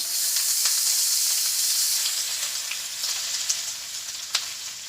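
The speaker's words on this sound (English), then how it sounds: "we're going to stir fry this until it gets tender." Onion and vegetables stir-frying in a hot pan, a steady close hiss of sizzling that stays loud throughout, with a few faint clicks of stirring near the end.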